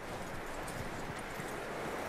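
Horse hooves clip-clop steadily in the Red Dead Redemption 2 video game, a soft continuous patter of steps mixed with outdoor wind and rustling, with no talk.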